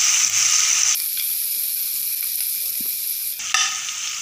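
Spice paste sizzles steadily in a pan with fried onion and tomato for a Bengali bata fish curry, close and constant with a brief scrape of stirring.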